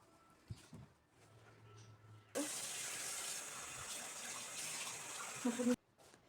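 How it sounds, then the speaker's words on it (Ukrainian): Steady rushing of water pouring into a pan of meat with tomato paste and spices, starting abruptly and running for a few seconds before cutting off, with a faint clatter at the end. "І заливаємо водою."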